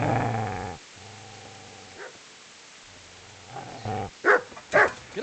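Growling dog in the medieval game Kingdom Come: Deliverance: a low, rumbling growl opens loud and close, then a quiet stretch, ending with several sharp, loud barks in quick succession.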